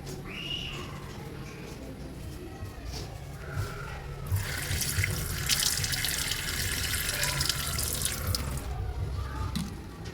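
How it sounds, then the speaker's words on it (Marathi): Running tap water splashes steadily into a bowl of flattened rice (poha) being rinsed, growing louder and fuller midway as the flow strengthens, with faint clinks and rinsing sounds. "धुवून घेणार आहे पोहे"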